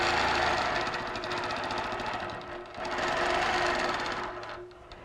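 A sewing machine stitches a quilt with a fast, steady mechanical whir and rapid needle chatter, briefly slowing midway before running on, close and without talk.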